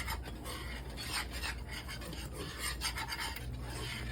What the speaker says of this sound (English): And whisk that all together.